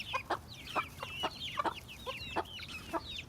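Nine-week-old chickens squabble over food scraps, a quick run of sharp clucks and squawks in an uneven rhythm, close by and alone.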